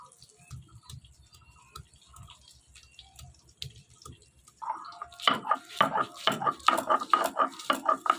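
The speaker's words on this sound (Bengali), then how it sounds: "আদা রসুন বাটা হয়ে গেল, একদম মিহি হয়ে গেছে।" Ginger and garlic are ground into a fine paste with soft scattered taps at first, then a run of rhythmic, wet, close scraping strokes.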